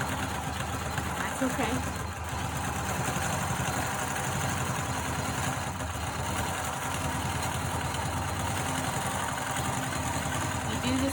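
A sewing machine running steadily while stitching a quilt-as-you-go dragon-scale baby quilt: a continuous close mechanical hum and rapid needle chatter, with a person talking briefly over it.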